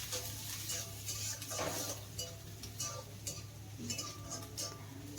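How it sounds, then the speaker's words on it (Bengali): Finely chopped medium onion fries in a pan, heard as a faint sizzle with light clinks and scrapes of stirring over a steady low hum. "পেঁয়াজের কাঁচা গন্ধ যেন না থাকে সেইভাবে পেঁয়াজটাকে ভেজে নিতে হবে।"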